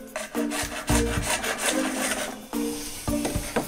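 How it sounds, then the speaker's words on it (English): A large hand saw cuts through a PVC pipe for a fishing rod holder with rhythmic back-and-forth rasping strokes. Each stroke is close and scratchy, with brief knocks as the blade changes direction. "If you have a smaller saw, I'd recommend it, but unfortunately this is all I have, so this is how I'm going to cut it"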